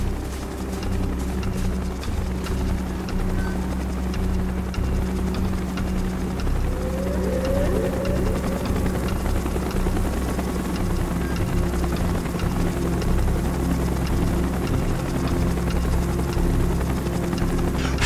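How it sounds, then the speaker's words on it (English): A helicopter arriving in the video game Call of Duty: Black Ops, its steady loud rotor drone and engine hum filling the scene without pause. "Chopper's inbound!"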